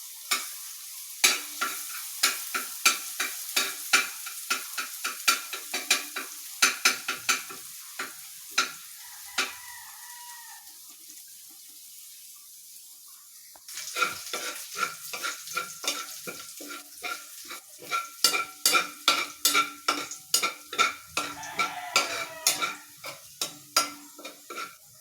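Garlic sizzling in a pan for fried rice, stirred in a steady run of scraping and clinking strokes, with a quieter stretch partway through before the sizzle and stirring pick up again. No one speaks.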